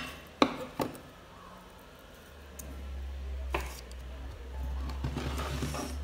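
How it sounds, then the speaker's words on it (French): A knife cuts through bread on a board for a tuna sandwich loaf, a few sharp knocks early, then soft sawing crunches and taps over a low hum, fairly quiet and close. "Je vais découper. Si le couteau veut bien couper"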